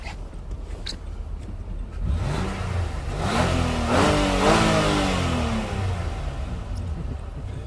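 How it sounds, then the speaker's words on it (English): A Nissan Pathfinder engine idles, then revs up in a rising, swelling vroom that holds high for a couple of seconds before easing back down, loud and close, with no talking over it. "Hear that bad boy rev"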